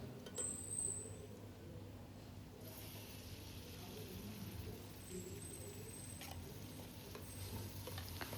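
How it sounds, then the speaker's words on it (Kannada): Two chopped medium tomatoes fry in a pan for chicken fry, a soft steady sizzle under occasional stirring, faint and close. "ಟೊಮೆಟೊನ ಚೆನ್ನಾಗಿ ಫ್ರೈ ಮಾಡ್ಕೊಳ್ಳಿ."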